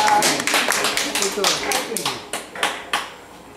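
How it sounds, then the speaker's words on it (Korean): An audience at a workshop gathering claps in a dense burst of applause that starts loud and gradually thins into scattered claps, with voices mixed in underneath. "우리 한번 박수 한번 다시 한번 보내겠습니다"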